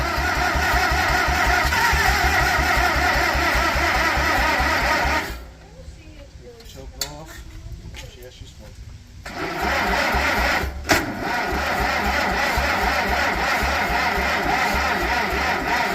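An old seized Farmall tractor engine labors noisily while cranking, stalls into a few seconds of near quiet with faint clicks, then a loud mechanical clatter resumes and runs steadily.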